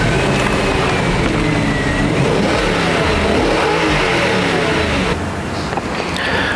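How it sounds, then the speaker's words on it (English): V8 engine of a 2020 Audi R8 revving hard nearby, a loud rising roar that holds steady before easing off slightly at the end. "when you do open up that V8 engine, it absolutely sings"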